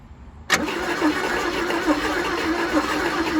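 A 1977 Chevy Camaro, abandoned, cranking as it tries to start: after half a second of quiet the starter kicks in loud and close, a steady churning drone that keeps grinding without the engine catching.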